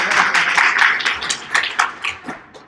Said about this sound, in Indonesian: Boleh kita buka dengan tepuk tangan?